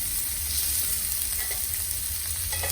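Garlic and shallot sizzle steadily in a hot pan alongside vegetables, a constant bright crackling hiss close by with occasional stirring, no voices.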